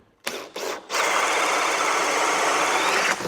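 A Makita XGT 40V drill spins up after a couple of brief chuck-cranking bursts, then runs at a steady, loud whirring full speed for a few seconds before cutting off.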